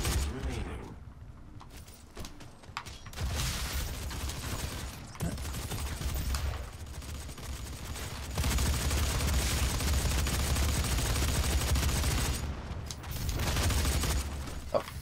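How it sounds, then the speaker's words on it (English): Rapid assault rifle fire in DOOM online multiplayer, with bursts of automatic shots and booming impacts running steadily through the clip, loud and dense against a continuous game soundscape. "let's go back to the Assault Rifle"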